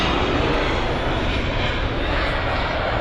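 A Ryanair Boeing 737-800 landing at Manchester Airport roars as a continuous, loud, broadband jet rumble that holds steady throughout, with no talking.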